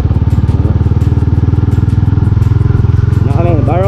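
A motorcycle engine idles steadily close by with a continuous low, pulsing throb, while people talk over it.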